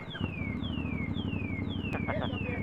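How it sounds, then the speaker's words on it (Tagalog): A car alarm goes off, five repeated descending whooping sweeps over a low rumbling engine idle outdoors, with faint voices in the background. "Oh, may alarm pa."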